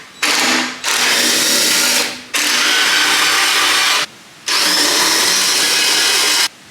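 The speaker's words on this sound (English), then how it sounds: "It takes a Torx 30 bit, so we're going to go ahead, remove all the bolts and see what we get." A power driver with a Torx 30 bit backs out the bolts on a steel bumper of a Jeep Gladiator, giving three long, loud, steady whirring bursts separated by brief pauses.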